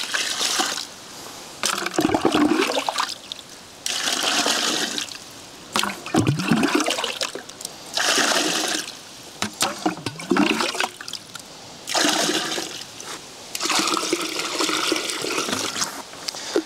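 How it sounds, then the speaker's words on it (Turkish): Water poured onto potting soil in several long gushing pours separated by brief pauses, loud and close with a splashing, rushing texture. "Şimdi suyu ekliyorum."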